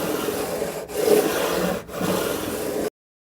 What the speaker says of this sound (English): I'm just going to sand until I don't see any more of the orange